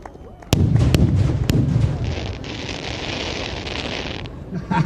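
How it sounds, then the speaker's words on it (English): Loud booming fireworks finale at the Weston Park 25th anniversary show, with sharp bursts near the start giving way to a dense, continuous crackling roar that rumbles on to the end. "that was our fireworks spectacular"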